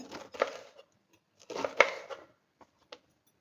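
A knife cuts through a crisp vegetable for bajji fritters in two short bursts of slicing, then a few quick isolated taps on a board.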